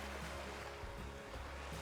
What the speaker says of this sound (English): so this is the river